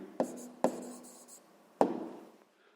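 A pen writes out the answer to a fifth-grade maths exercise on paper, with three sharp taps of the tip and soft scratchy strokes between them, close and fairly quiet, with no talk.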